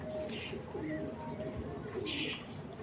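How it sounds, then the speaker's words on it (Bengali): Racing pigeons of a tournament breeding line at a bird sale, a few soft low coos at close range over faint background murmur and rustling. "এটা 19-এর একটা পাল্লা খেলার একটা কবুতর"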